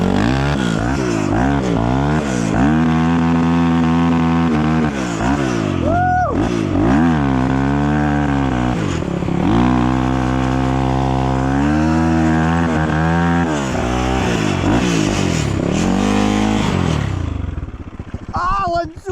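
A Geon GNS 300 motorcycle rides along, its engine droning and rising and falling in pitch with repeated revving and gear changes, loud and close, with a voice talking briefly over it.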